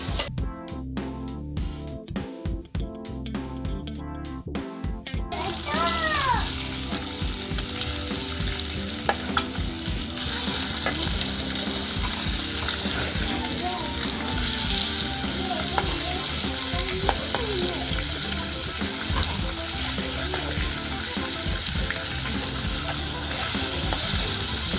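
Fish pieces fry in a hot pan with a steady, loud sizzle throughout, while occasional stirring and utensil clinks sit over it. A few sharp clicks come at the start.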